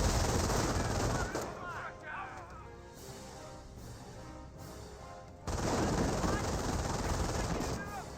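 Sustained MG42 machine gun fire in Company of Heroes, loud, dense bursts filling the mix, broken by a quieter stretch of distant battle noise before the rapid fire returns at full intensity.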